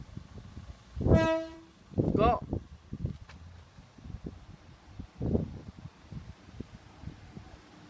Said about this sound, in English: 14:55 2 Lima 68 East Midlands train service from Lincoln Central to Leicester